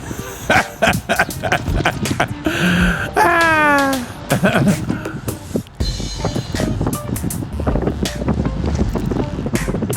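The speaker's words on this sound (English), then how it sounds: "Listen to that wind." Strong wind buffets a microphone during a long road bike ride, roaring loud and gusty throughout, with a few other sounds breaking through.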